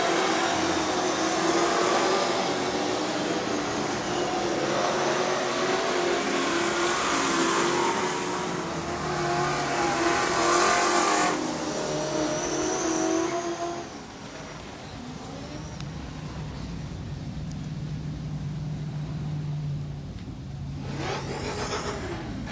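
Speedway race cars roar through the AMCA Queensland title final at Gympie Speedway, a loud, steady engine drone with a pass-by swell that eases off partway through before the cars come around again.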